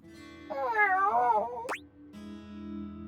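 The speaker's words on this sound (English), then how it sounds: "Sounds like a cat." A video game cat creature lets out one clear, drawn-out meow with a wavering pitch, followed by a short springy sound effect, over quiet game background music.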